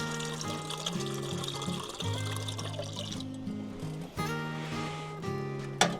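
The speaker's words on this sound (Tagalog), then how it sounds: "Dito na tayo kumuha ng tubig natin" Water trickles and pours steadily into a pot for boiling at a solo riverside campsite in Tarlac, soft and continuous under background music.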